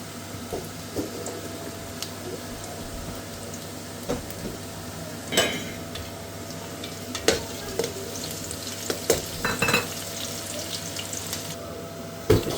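Chili and garlic frying in hot oil for a street-style Manchurian gravy, a steady close sizzle with occasional clicks and scrapes of stirring.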